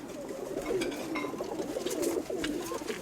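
Domestic pigeons coo in a soft, continuous low murmur of overlapping calls from close by, with a few brighter chirps above, and no voices.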